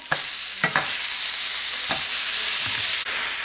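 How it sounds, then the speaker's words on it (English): A pork chop sears loudly in a frying pan, a constant dense sizzle close up, broken by a few clunks of the meat being shifted and held on its edge. "holding this damn thing sideways to get that nice sear all the way around the pork chop"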